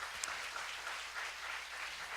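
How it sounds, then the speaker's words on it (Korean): A Korean church congregation at a university group's Sunday worship gives a long, even round of thanksgiving applause, soft and diffuse with no standout claps or voices. "우리 하나님께 영광과 우리 감사의 박수 올리겠습니다"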